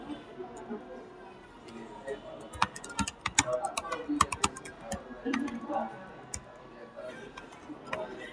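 Fingers type text on a computer keyboard in a quick run of light, uneven clicks, with a denser flurry in the middle and a soft voice faintly underneath.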